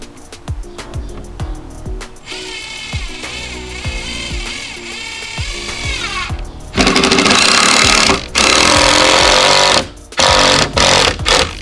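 Power drill driving screws into 2x4 lumber, whirring runs that rise in pitch as each screw bites, followed by louder grinding bursts near the end, close and loud.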